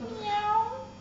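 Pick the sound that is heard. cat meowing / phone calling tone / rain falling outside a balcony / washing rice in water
cat meowing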